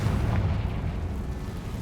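Confringo blasting spell going off in the game Hogwarts Legacy: a deep, rumbling explosion boom that rolls on heavily for under two seconds, loud and close.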